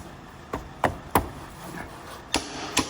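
Hammer blows on a socket fitted to a DAF truck hub, six sharp metallic knocks at uneven intervals, close and distinct, with no talking.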